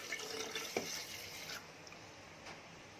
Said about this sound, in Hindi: इसमें जाएगा ये पूरा दूध, बाकी जो लगेगा पानी डालूंगी।